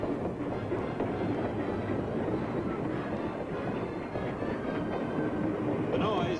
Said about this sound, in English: the homeward bound special train chugs out of the station